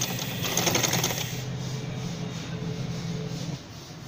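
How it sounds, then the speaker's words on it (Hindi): Sewing machine stitching a straight seam on fabric for bell-bottom sleeves: a fast, even mechanical whir and needle chatter up close, running steadily and then easing off near the end. "मैं आपको सिलाई की बिल्कुल सीधी सिलाई लगाना सिखाऊंगी"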